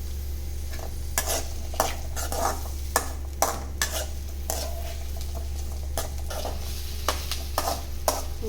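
Shallots and curry leaves sautéing in a pan under a low sizzle, while a spoon stirs and scrapes against the metal in repeated sharp knocks roughly every half second, close and clear, with no talk.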